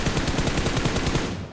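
A Groza rifle fires in a video game in one rapid automatic burst of about a dozen closely spaced shots, loud and near, with no other sound.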